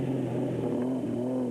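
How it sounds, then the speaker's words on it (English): A 4-litre Ford Ranger rally truck at speed gives a loud, steady engine drone with a strong low hum and a slight rise and fall in pitch, held throughout with no talk. "As for Woolridge and Schultheimer in the 4-litre Ford Ranger, they were piling on the speed and the pressure"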